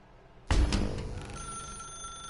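Telephone ringing in The Stanley Parable, a sudden loud bell that bursts in after near silence, then trails off into a lingering tonal ring, with no talking.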